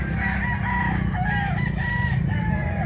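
A rooster crows in a rural Cebu village yard, its drawn-out calls riding over a loud, steady low rumble of background noise, with other fowl clucking nearby.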